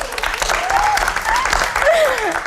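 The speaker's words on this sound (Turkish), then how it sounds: "Mira ile İpek'in annesini buradan bir alkışlayalım" Studio audience on a Turkish late-night talk show applauding in a sustained wash, with a voice talking over the clapping.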